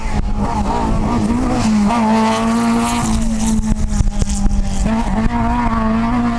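A Mark II rally car races over a Western Cork rally stage, its engine loud and close, revving hard through gear changes with a steady roaring tone and brief gritty bursts from the tyres.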